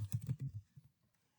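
A short burst of quick, close keystrokes on a computer keyboard, including the Tab key, clicking briskly for about half a second before trailing off into quiet.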